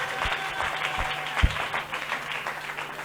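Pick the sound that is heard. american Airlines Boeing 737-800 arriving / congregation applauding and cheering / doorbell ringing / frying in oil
congregation applauding and cheering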